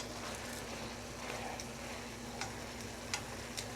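Pepper steak stirred in a hot pan, a steady low sizzle with a few soft clicks and taps of the utensil, fairly quiet and without talk.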